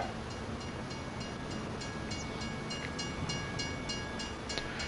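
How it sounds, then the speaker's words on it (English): A train passes in Farming Simulator 25 on the Riverbend Springs map, a steady rumbling roll with faint rhythmic clicks and a thin high whine, running continuously at moderate level with no talk. "To see if the train is actually coming there or not."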